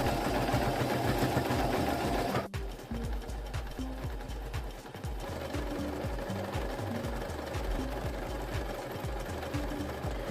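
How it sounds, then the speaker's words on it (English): A sewing machine stitches folded fabric strips around their edges, running in a steady rapid mechanical rhythm, close and loud, with a brief pause early on before the motor resumes its even hum and clatter. "I take 2 strips, fold them face to face, and sew around the perimeter."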